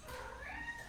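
A domestic cat meows briefly to be let out, a single drawn-out indoor call heard close and fairly faint, with no talking over it.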